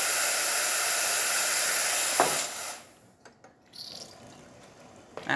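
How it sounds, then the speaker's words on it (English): Hot water streams from a Vibiemme Domobar lever espresso machine, a steady hiss for about two seconds that cuts off, followed by quieter drips and faint clicks. "And hot water, simple stream, with excellent temperature as well."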